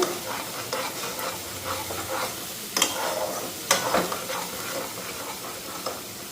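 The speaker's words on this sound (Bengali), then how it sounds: "মশলাটা ভালো করে ভাজা করে নিচ্ছি" Spices sizzling steadily in hot oil in a pan while a spatula scrapes and stirs them, with a couple of sharper scraping knocks standing out over the continuous frying hiss; no talking.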